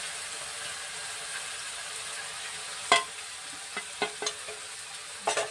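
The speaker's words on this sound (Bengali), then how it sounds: "দিয়ে এবার যতক্ষণ না তেল না বেরোবে ততক্ষণ নেড়ে যাবো।" Kashmiri chilli powder and turmeric sizzle quietly in oil in a village kitchen, a steady low frying hiss broken by several sharp scrapes and clinks of a spoon stirring the pan.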